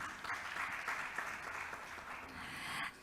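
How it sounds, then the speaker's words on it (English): Moderate audience applause welcoming a panelist at an education conclave, a continuous patter of many hands at middling distance, holding fairly steady before a sudden louder burst right at the end. "I think we can clap a little louder."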